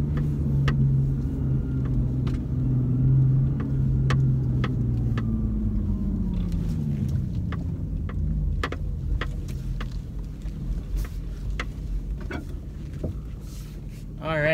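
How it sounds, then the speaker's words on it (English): A car engine burbles at low revs, a deep throaty exhaust note that swells and settles, with a few ticks and clicks over it. "that exhaust note is on point"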